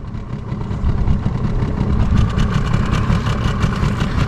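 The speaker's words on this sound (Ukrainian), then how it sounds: "не чути від мотора." A boat motor on a river runs steadily throughout during pike fishing, a low, rough, continuous drone with no pauses and no voices.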